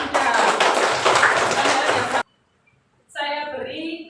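Classroom applause from students, a burst of dense clapping for about two seconds, then a pause before a voice speaks.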